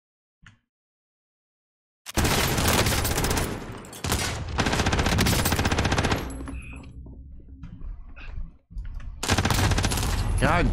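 Heavy automatic gunfire in Warzone, long loud bursts of rapid shots close by, broken by short pauses and a few scattered single shots, with brief talk in between.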